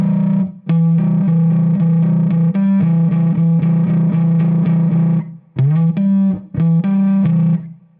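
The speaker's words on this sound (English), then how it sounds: "So this is what a minor third sounds like." Heavily distorted electric guitar sounding a minor third interval, strummed in repeated bursts with brief gaps and a few short re-attacks near the end, loud and up close with no talking.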